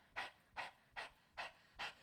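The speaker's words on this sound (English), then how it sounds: "fast breath work, like panting" A person pants fast during breath work, like a dog: five quick, evenly spaced breaths, close and soft, with no talking.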